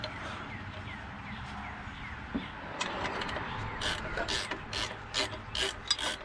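A ratchet tightens a bolt on a bus engine, producing a series of short, rasping clicks that come faster toward the end, close and fairly quiet over faint rubbing.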